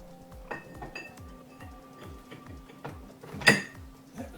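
A heated crown wheel drops onto a Quaife limited-slip differential for a Mercedes W204, landing with one sharp metallic clink after a few lighter ticks and clicks of handling nearby.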